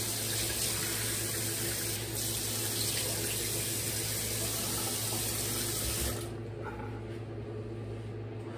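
Tap water runs steadily into a sink while soap is rinsed off, a loud, close, continuous rush that cuts off abruptly near the end, leaving faint room noise.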